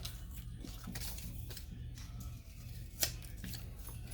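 Scissors snip through a sublimation transfer sheet, with one sharp cut standing out above a low, steady hum of background noise.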